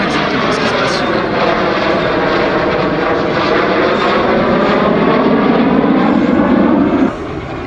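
A Messerschmitt Me 262 jet aircraft at an air show, a loud steady engine roar that stays close and constant throughout, with crowd or commentary noise faintly mixed beneath.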